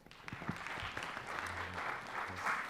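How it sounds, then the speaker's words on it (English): Conference audience at a Microsoft Ignite session clapping to welcome presenters, fairly faint and distant, with a few close claps at the start under low background murmur. "Please give them a big round of applause."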